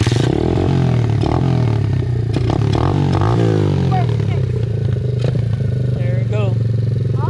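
An Apollo dirt bike engine stutters, catches and revs loudly nearby after being kick-started, its rough idle rising and falling under scraping clatter and people's voices.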